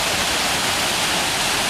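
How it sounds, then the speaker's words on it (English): Waterfall in Buffalo, New York on a grim winter day, a steady broadband rush of falling water filling the air with constant, even roar and no distinct pauses. "Gotta see some water falling."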